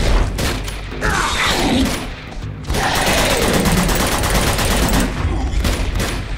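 Rapid automatic gunfire and bursts of shooting in the video game Uncharted 2, loud and dense, running nearly continuously with a brief lull partway through.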